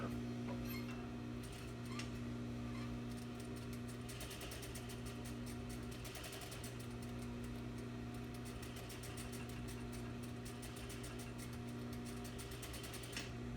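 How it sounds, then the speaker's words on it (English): Sewing machine stay stitching around a garment curve at a 3/8 seam allowance, a continuous quiet motor hum with fast, rapid ticking of the needle throughout, no talk. "We are going to be stitching the stay stitching at 3/8."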